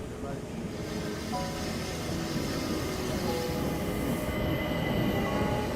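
Train in the Murder on the Orient Express video game, a steady rumble of rolling wheels with faint squeals running continuously at moderate level.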